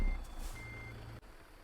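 A heavy truck in a trucking video game gives off steady reversing beeps, tones repeating evenly over a low idling engine rumble, close and clear with no talking.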